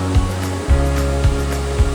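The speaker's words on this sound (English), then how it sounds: "Made it to the waterfall." Waterfall in Yosemite National Park, a steady broadband rush of falling water heard up close, with low thumps of wind buffeting the microphone every half second or so.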